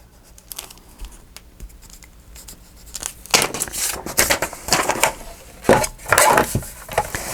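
Loud, close crunching and rasping bursts as a Tim Holtz cutting tool slices through craft paper, starting with a few sparse ticks and building into dense, repeated chopping cuts.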